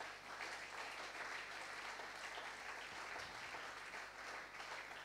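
A church congregation applauding during a sermon, a dense, even burst of many hands clapping together, sustained and moderately distant, with no voices standing out.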